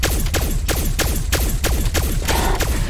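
Rapid, evenly spaced gunshots in a zombie video game, about nine loud reports in three seconds with no talk, as shots are fired into a zombie's legs.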